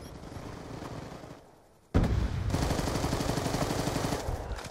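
Rapid automatic gunfire in a competitive shooter video game, loud and close, with a brief lull before a dense, sustained burst of shots.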